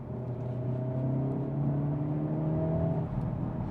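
A 2024 Hyundai Elantra N engine revs steadily and loudly with a deep, sustained drone and rising harmonics, close by, with no voices over it.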